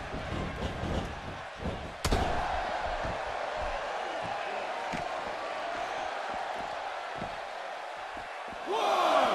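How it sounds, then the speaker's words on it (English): A wrestling event crowd makes a steady, distant roar of murmuring and cheering throughout, broken by a sharp slam early on, then swelling louder at the very end. "by the sound of this crowd"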